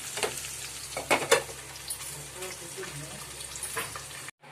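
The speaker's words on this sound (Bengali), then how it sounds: "এবার আমি একে একে সব মাছগুলো এইভাবে ভেজে তুলে নেব" Tangra fish fry in hot oil in a partly covered pan, giving a steady close crackling sizzle with a few louder spatters and pops, then cutting off abruptly at the end.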